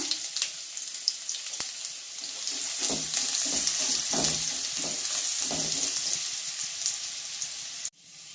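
Garlic and ginger paste with dried red chilli fries in oil in a pan for chilli chicken, making a soft steady sizzle under a few stirring knocks and scrapes, then cutting off abruptly at the end.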